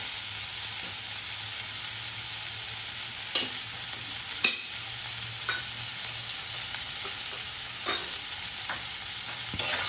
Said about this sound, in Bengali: বেগুনটা আমার ভাজা ভাজা হয়ে গেছে।